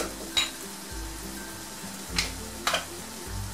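Spiced minced meat for konak kebab sizzles in a pan as a spoon stirs it, with a few sharp scrapes and clinks against the metal over a steady background of frying.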